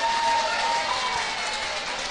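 Audience applause at a 2016 mayoral candidates' debate in Lins, a steady broadband clapping from a crowd that holds evenly throughout with no pauses.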